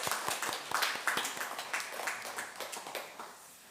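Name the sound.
congregation applause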